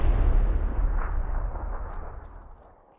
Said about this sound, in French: Ah, grenade! Grenade, c'est qui?